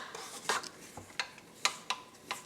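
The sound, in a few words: scraping down a mixing bowl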